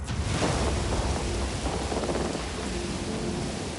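A tropical cyclone thunderstorm with heavy, steady rain and rolling thunder, loud and close, filling the whole stretch without any voices.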